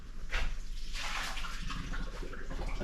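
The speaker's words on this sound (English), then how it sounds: "I'm just going to take this hot water and dump it out." Hot water is dumped out into a kitchen sink, a splashing, gurgling pour with a couple of louder gushes over a low background hum, close by and with no talk.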